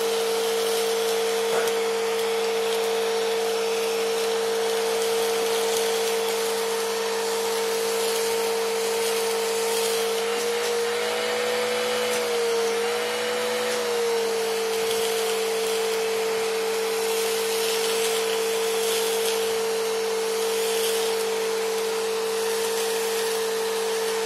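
A Bissell Rewind Premier Pet vacuum cleaner runs steadily, a loud continuous motor whine with a strong steady hum and airy rush, briefly shifting in pitch as the hose pulls in debris.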